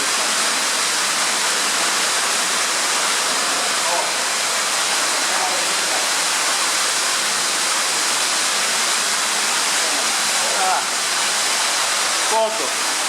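Underground waterfall in the Riese tunnels at Ludwikowice Kłodzkie, Poland, roaring as a steady, loud broadband rush of falling water throughout, with faint voices barely audible beneath it.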